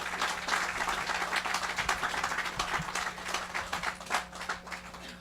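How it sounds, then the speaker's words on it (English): Applause for cadets at a Veterans Day service in Key Biscayne: a moderate crowd claps with distinct, uneven hand claps, and a low steady hum sits underneath. "Let's give them all a big round of applause."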